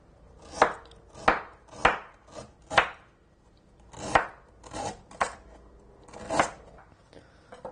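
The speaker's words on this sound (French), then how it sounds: "Et ensuite, on émince le galanga." A knife slices galangal on a cutting board in a home kitchen: about nine crisp, separate chopping strokes at an uneven rhythm, close and fairly quiet.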